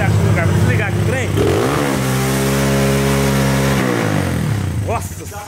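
A modified Honda Today motorcycle fitted with a CRF-130 engine kit runs loudly and revs, then its engine note drops and winds down toward the end as it is switched off, with a voice audible over it.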